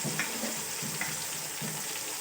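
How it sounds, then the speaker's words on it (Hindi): Tomatoes, cumin and spices fry in a pan for chicken pulao, giving a steady hissing sizzle with soft stirring scrapes at a regular pace. "इसको भी अब हम साथ साथ फ्राई करते जाएंगे।"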